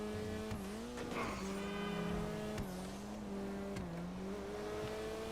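A car in the video game GTA drives with a steady engine drone and a long sustained tire squeal as the tail slides through turns, with the pitch wavering and occasional bumps, loud and continuous.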